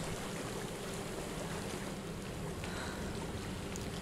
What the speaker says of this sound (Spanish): Atrás tuyo hay agua.